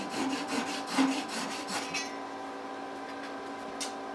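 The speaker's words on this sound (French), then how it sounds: "Maintenant je vais prendre une petite scie japonaise pour couper juste le dernier petit morceau." A small Japanese hand saw cuts the last piece of wood from a turned wooden disc, its rasping strokes fairly rhythmic and close for the first two seconds, then fading into a quiet room.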